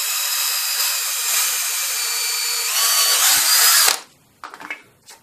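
A power drill bores pilot holes in wood while building a drop-down clothes airer: a loud, steady whine lasting about four seconds, rising slightly near the end before stopping abruptly, followed by faint handling clatter.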